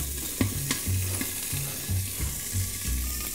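Poultry browning in a covered pan for a festive morel dish, giving a steady low sizzle with periodic soft knocks and stirring clatter, close and alone.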